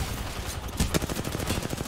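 Rapid gunshots from Apex Legends fire in quick automatic bursts, close and loud, with a few heavier cracks standing out in a dense run of shots.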